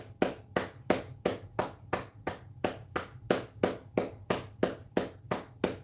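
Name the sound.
group clapping hands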